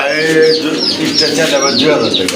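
A pigeon coos close by at a bird sale, throaty warbling calls repeating continuously, with people talking in the background.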